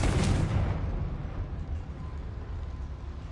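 An explosion from a blasting curse in a Harry Potter video game bursts loudly at the start, then fades into a long rumbling decay that fills the rest of the moment.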